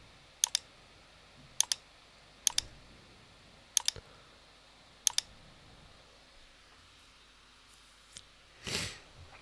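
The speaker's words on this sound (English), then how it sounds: "I click on automatic" Computer mouse clicks sound in a PowerPoint session, heard as five crisp double clicks spaced about a second apart, close and quiet, followed by a softer click and a brief rustle.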